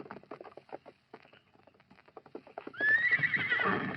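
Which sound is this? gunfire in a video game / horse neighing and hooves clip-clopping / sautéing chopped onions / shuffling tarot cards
horse neighing and hooves clip-clopping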